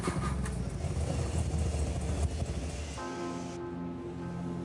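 A car's engine is cranked and starts, a loud rough churning that settles after a few seconds into a steady idle hum, with no one talking.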